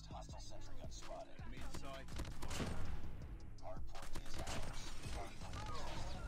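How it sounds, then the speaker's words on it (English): Sentry gun in the mobile shooter Call of Duty Mobile fires rapid, sustained bursts amid other game gunfire and mechanical clatter, fairly quiet overall, with a player's voice speaking over it. "That sentry gun's kind of annoying."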